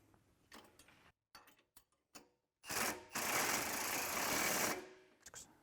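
Pneumatic impact wrench tightening the closing-system bolts during a 360 Bandit installation, a few short bursts followed by a loud sustained rattling run of about two seconds, close by.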